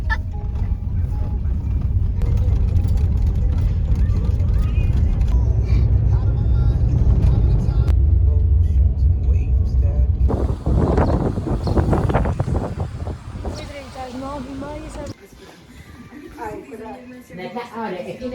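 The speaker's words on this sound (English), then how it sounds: "Why are we driving in circles?" A car on a road in the Azores driving in circles, a steady engine and road rumble with wind buffeting the microphone, while voices talk over it.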